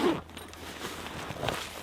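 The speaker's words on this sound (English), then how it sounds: "So let's open this up. As you can see, you have 2-way zippers." A two-way zipper on a large camping first aid kit is drawn open in a short, quiet rasp, close by, with soft handling noises around it.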